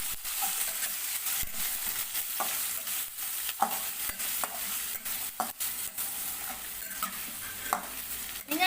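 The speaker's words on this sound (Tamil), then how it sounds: "வெங்காயம் நல்லா பொன்னிறமாக வதங்கட்டும்." Chopped onion sautéing in a pan with curry leaves and a little coriander, a steady close sizzle broken by repeated scraping stirs of a spoon against the pan, with no talking.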